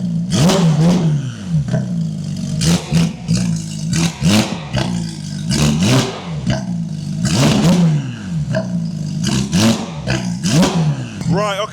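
Porsche GT3 RS with a new exhaust revving repeatedly while stationary, a series of sharp, loud throttle blips rising and falling in a steady rhythm close by.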